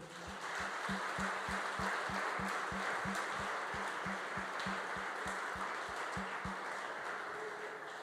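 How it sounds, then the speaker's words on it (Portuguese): A church congregation applauding during a service, a soft wash of clapping heard from a distance, with a steady rhythmic low thump pulsing beneath it throughout. "Dê um aplauso ao Senhor"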